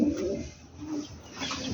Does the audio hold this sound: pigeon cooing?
yes